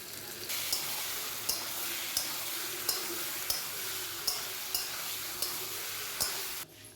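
Potatoes, liver and fat fry in a pan with a steady, moderate sizzle, broken by regular spatula scrapes about every second, and the sound cuts off just before the end.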